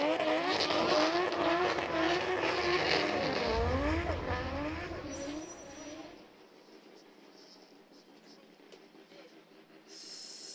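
A Formula Drift car drifting at Okayama International Circuit during qualifying, its engine revving hard with tyre squeal for about six seconds before the noise drops away to a faint background.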